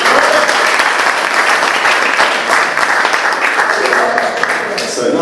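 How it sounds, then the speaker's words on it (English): An audience at a tech talk event claps in a dense, loud, steady round of applause that continues without a break throughout. "Round of applause."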